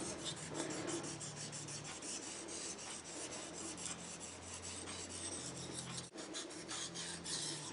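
A Mora 612 knife blade drawn steadily across a fine-grit sharpening stone, a continuous close scraping rasp with brief pauses between strokes, no voices.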